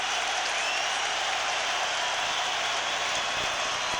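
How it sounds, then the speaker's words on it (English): Roaring college football stadium crowd on its feet near the end zone, a dense, sustained wall of cheering and applause at steady loudness. "Crowd now on their feet again. It gets loud on that end zone"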